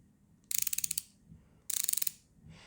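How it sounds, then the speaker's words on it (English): A Tone RMW series ratcheting wrench clicks quickly in two distinct runs of sharp, even ratchet clicks, close and crisp over a quiet background. "this is their RMW series ratcheting wrenches"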